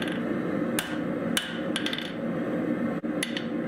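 Steel is forged with a hammer on an anvil, a handful of sharp, ringing metallic strikes landing at uneven intervals over a low, constant background hum.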